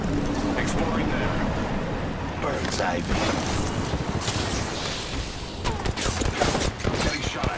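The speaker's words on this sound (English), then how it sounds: "Being shot at." Gunfire in the video game Apex Legends rattles in rapid bursts, with heavier clustered shots toward the end, mixed with other game noise while a person talks over it.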